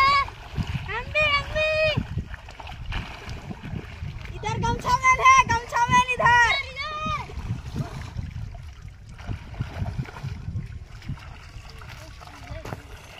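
Bathers splash about in cold water at a Chhath Puja riverside gathering, with loud irregular splashes mixed with excited shouting and children's voices close by.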